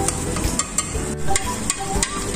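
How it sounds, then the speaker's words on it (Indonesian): Tapioca starch thickener being stirred into a small batch of sauce in a pan for a Chinese dish, giving a steady scraping and sloshing with repeated light spoon clinks against the pan, close and fairly loud, with no talk. "Kita masukkan pengentalnya, diaduk."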